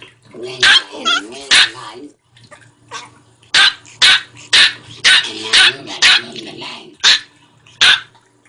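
A small dog barks loudly and close by in a rapid, uneven series of sharp yaps, with a few growly, yipping tones between bursts.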